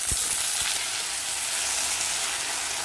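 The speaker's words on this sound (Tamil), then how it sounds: "இதே எண்ணெயில் சுண்டக்காய் சேர்த்து வதக்கணும்." Turkey berries and tomatoes sauté in hot oil in a pan, giving a steady, close hissing sizzle that fills the whole stretch with no talking.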